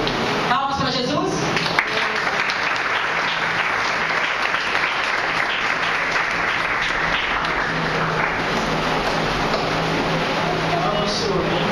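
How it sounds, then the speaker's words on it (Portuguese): A church congregation claps continuously and loudly for several seconds, the applause dense and steady with a few voices mixed in. "Palmas para Jesus."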